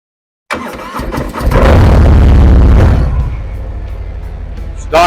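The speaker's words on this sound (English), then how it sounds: "Stock Harley pipes, quiet as a mouse." A Harley-Davidson Hydra-Glide motorcycle with stock exhaust pipes starts up, a close, loud crank catching into a rising roar that settles into a steady, rumbling idle.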